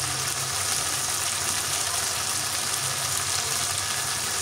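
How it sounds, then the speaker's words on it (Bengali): A loud, dense sizzle rises steadily from curry frying in a pan after water is poured in, continuous and close with no talking. "এখন এখানে আমি কিছু পানি অ্যাড করব।"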